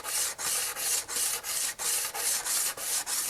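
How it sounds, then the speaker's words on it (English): A butt weld on a Scout 800 fender is sanded with 150-grit stick-on paper on a flat 6-inch Baltic birch sanding board, in about nine even, rhythmic rasping strokes, close and alone. "150 sandpaper, it's stick-it paper, on this little Baltic birch 6-inch diameter circle, and it's really flat, and we're going to use this as a little sanding board"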